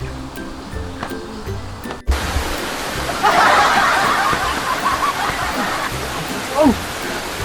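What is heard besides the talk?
rain pouring down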